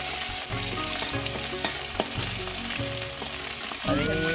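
Ground ginger, garlic and coconut paste fries loudly in hot oil with chopped onion for a palm seed kernel dish, a dense continuous sizzle broken by regular stirring scrapes.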